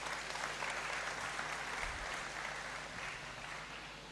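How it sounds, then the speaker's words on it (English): Audience applause in the Great Hall at a University of Ghana congregation ceremony, a steady, dense wash of clapping held at an even level throughout, with faint voices underneath. "Please, let's give her another round of applause"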